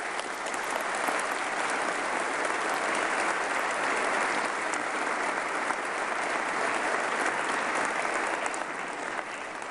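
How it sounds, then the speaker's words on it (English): Sustained, dense applause from a large audience at a 2022 State of the State address, steady and loud throughout the full stretch with no voices standing out. "But please give them a big round of applause."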